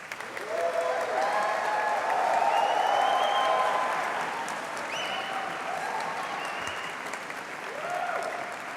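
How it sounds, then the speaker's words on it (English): A graduation ceremony audience applauds in a hall, a broad sustained wash of clapping that swells in the middle and tapers off, with scattered voices calling out beneath it. "Will you please applaud them in return?"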